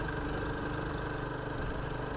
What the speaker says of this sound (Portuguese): A moto sofre aqui.